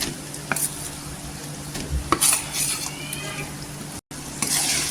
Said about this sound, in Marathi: मसाल्यामध्ये छान असं परतून घेतलेलं आहे, तेलावर छान असं फ्राय केलेलं आहे